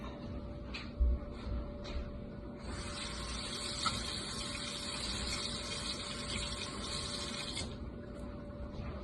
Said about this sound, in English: And we're going to rinse this off.